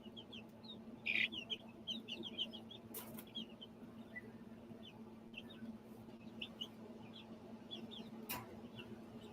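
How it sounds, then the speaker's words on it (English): Chickens in a yard give soft, scattered clucks and chirps throughout, fairly quiet and steady, with a couple of brief louder flaps or bursts, all over a low background hum. "Hi, little chickies."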